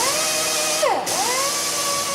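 A gasket gun spinning against a metal differential cover to strip old gasket material off a Ford F-series truck, a steady high-pitched tool whine that briefly dips under load and recovers, close and continuous with no speech.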